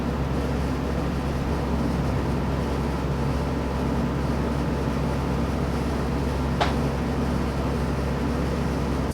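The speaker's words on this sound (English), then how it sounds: "I forgot to turn off the air conditioner." An air conditioner running indoors gives a steady, even low hum with a broadband hiss that holds at a constant level throughout, alone with no talk and only one brief faint click near the end.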